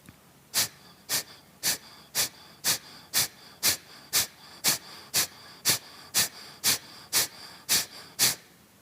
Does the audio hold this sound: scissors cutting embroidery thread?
no